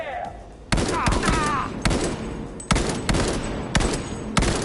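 Rapid bursts of loud gunfire in the video game Cyberpunk 2077, several punchy shots in quick succession with a brief electronic warble before them.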